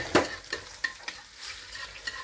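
Garlic stirred with sugar in a pan, close up, with a soft sizzle under a series of sharp spoon scrapes and taps against the pan at irregular intervals, no voices.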